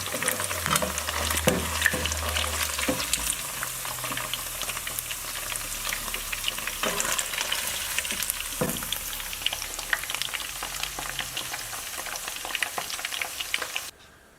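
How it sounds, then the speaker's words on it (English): Tofu deep frying in hot oil, with a steady, dense sizzle and crackle running throughout, punctuated by occasional stirring clinks and scrapes, close and fairly loud before cutting off abruptly at the end. "you want to deep fry this until it turns golden brown and then remove it from the heat"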